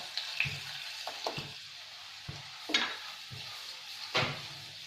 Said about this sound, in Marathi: थोडासा कढीपत्ता घालूया आणि छान याला मिक्स करून घेऊया